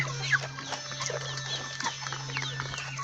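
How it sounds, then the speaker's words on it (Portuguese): Free-range chickens about four months old cluck and murmur softly in their pen, with scattered close calls over a steady low mechanical hum. "Olha o tamanho desses frangos, nem parece ter 4 meses."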